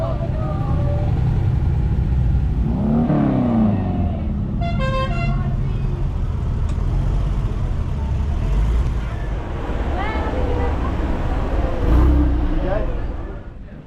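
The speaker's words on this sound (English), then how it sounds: "we've arrived in Foy, in the middle of a car festival or car meet" Cars at a car festival or car meet in Fowey, Cornwall, with engines rumbling, a short horn toot and passing vehicles, under talk from people nearby and a loud, busy street backdrop throughout.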